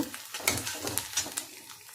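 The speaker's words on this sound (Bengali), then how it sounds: "এবার এর মধ্যে দিয়ে দেবো গাজর কুচি কারণ এই সবজিটাও খুবই শক্ত সেই জন্য এটা আমি আগে দিয়ে দিচ্ছি একটু হালকা করে ভেজে নিয়ে একটু নরম করে নেব" Chopped carrots frying in a pan with onions, soft sizzling broken by light stirring scrapes and a few small utensil clicks, quiet and close, with no talking.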